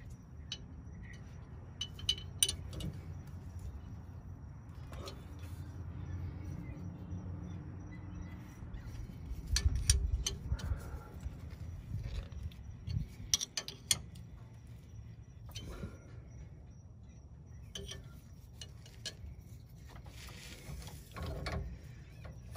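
A flaring tool being cranked on a car's leaking brake line in a garage, giving repeated close ratcheting clicks and mechanical ticks in irregular bursts over low background rumble.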